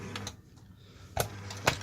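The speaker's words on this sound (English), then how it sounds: "then cycle the machine. And that will punch one hole." A Renz punch machine cycles to punch a single hole, giving two short, sharp mechanical clunks about half a second apart over a faint low hum, heard close and alone.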